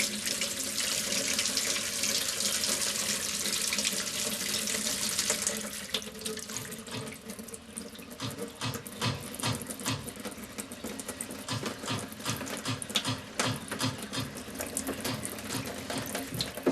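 A cold water tap runs steadily in a domestic sink, first as a bright continuous gush, then with bumping, sputtering pulses of water and air in the pipes.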